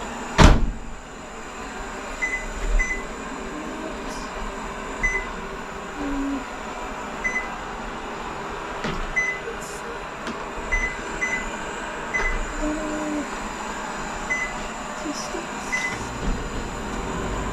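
A microwave oven hums steadily with a low drone, marked by a sharp door clunk at the start and a few faint beeps scattered throughout.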